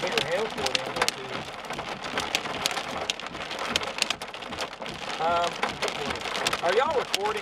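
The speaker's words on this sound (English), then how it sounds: "Well, there's hail." Hail falls during a severe Oklahoma storm, a dense continuous patter of hard stones striking surfaces with sharp individual impacts, loud and close, while people talk over it.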